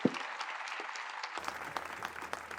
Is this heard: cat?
no